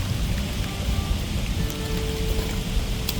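Steady, heavy rain falling continuously on plastic sheeting over prepared garlic field soil, a dense even hiss with no pauses and no voices.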